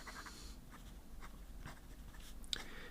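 A Pilot Custom 743 fountain pen with a fine nib writes on paper with a soft, continuous scratchy rustle. Short strokes start and stop close to the mic over steady background hiss.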